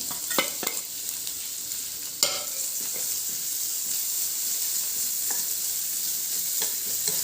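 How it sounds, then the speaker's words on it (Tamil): Chopped onions fry in a pan with a soft steady sizzle, broken by a few sharp clicks and scrapes of a spoon stirring. "ஒரு கப் அளவு வெங்காயம் பொடியாக நறுக்கினதையும் போட்டு வதக்கிடலாம்"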